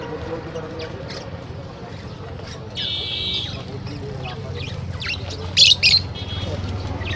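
Birds chirping and squawking among the crowd at a summertime pigeon market in Konnagar, with brief scattered calls and a couple of louder nearby squawks over a constant murmur of background voices and market noise.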